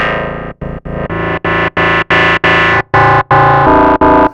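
A hardware synthesizer plays a run of staccato notes through a filter swept by a fast LFO, producing loud, dirty, growling distorted tones in a steady rhythmic pattern.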